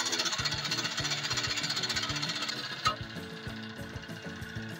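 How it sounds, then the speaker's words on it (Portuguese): A bench scroll saw cutting PVC sheets buzzes in a rapid, steady vibrating chatter, close and continuous, with a sharp knock partway through before it runs on. "o primeiro teste foi com a minha serra tico-tico de bancada"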